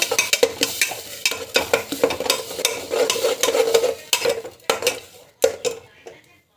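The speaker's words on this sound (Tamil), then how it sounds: "டமாட்டா பியூரி ஆட் பண்ணிவிட்டு நல்லா வந்து வதக்கிருக்கோங்க." Tomato puree with salt being sautéed in a pan for a potato-sprout gravy, with repeated scraping and clattering of a spoon against the pan over a soft sizzle, close and fairly loud with no talk.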